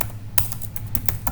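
Quick, uneven clicks of typing on a computer keyboard, close and crisp, with a faint low hum underneath.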